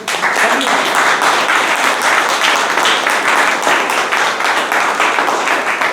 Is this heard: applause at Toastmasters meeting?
yes